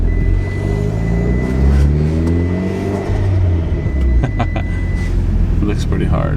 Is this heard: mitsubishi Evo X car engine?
yes